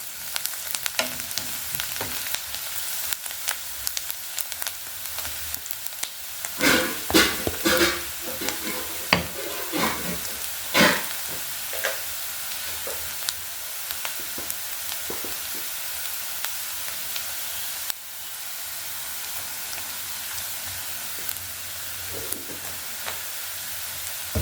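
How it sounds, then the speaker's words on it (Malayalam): Onions sautéing in a pan with chili powder and turmeric, a steady close sizzle with intermittent scraping stirs of a spatula, no voices. "1 ടീസ്പൂൺ മുളക് പൊടിയും 1/2 ടീസ്പൂൺ മഞ്ഞൾപ്പൊടിയും ചേർത്ത് നന്നായി വീണ്ടും വഴറ്റുക"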